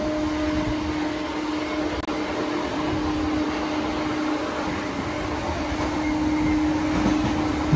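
A Sealdah–Godda fast MEMU passenger train running at speed, with a steady, loud rumble of wheels and carriage noise throughout and no talk.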